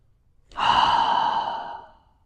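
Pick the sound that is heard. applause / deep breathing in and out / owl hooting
deep breathing in and out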